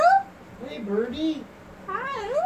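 A house cat meows several times close by, a drawn-out plaintive cry followed by a couple of rising and falling meows, with a person talking in between.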